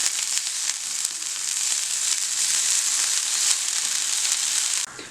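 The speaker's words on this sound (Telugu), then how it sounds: "ఇప్పుడు ఇది ఒకసారి నేను కలుపుకొని వేయించేసి పక్కన పెట్టుకుంటాను." About a cup of fenugreek leaves frying in a pan while being stirred, making a bright continuous sizzle close by that cuts off sharply near the end.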